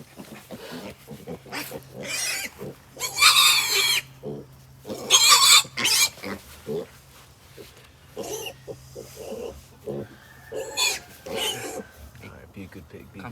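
Young boar piglets of the Idaho Pasture Pig breed squeal loudly in long, piercing bursts while being castrated on a farm, with quieter gaps, thumps and a person speaking in between.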